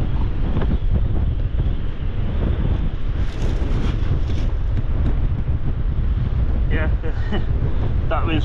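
Strong sideways wind on a rough North Wales coast buffets the microphone in a constant heavy roar throughout, with surf noise beneath it and a voice briefly audible under the gusts.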